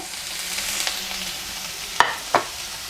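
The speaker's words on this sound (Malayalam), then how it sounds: "സവാള ചേർത്തിട്ട് നന്നായിട്ട് വഴറ്റി കൊടുക്കാം" A large, finely minced onion sautés in a pan for a curry, with a soft, continuous sizzle and two sharp spatula scrapes near the end.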